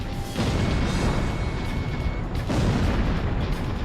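A tank is destroyed in Ace Combat Zero: The Belkan War, a flight video game; a loud, dense roaring burst sustains for several seconds, with a brief dip and then a second heavy rumbling blast.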